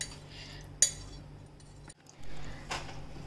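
A spoon stirring sugar in a bowl until it dissolves, with a sharp metallic clink against the bowl, soft scraping, and a later light tap, close and fairly quiet.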